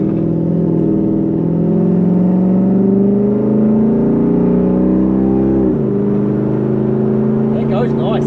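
A Mazda ute fitted with a 3UZ V8 and five-speed A650 automatic revs steadily and loudly close by, its engine note climbing and settling in a sustained drone before dipping near the end.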